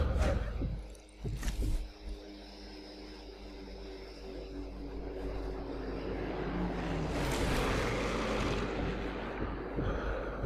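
A warplane flies over a battlefield in the World War II sniper game Sniper Elite 3. A low engine rumble slowly swells louder and fuller in the second half after a few brief sounds and a voice near the start.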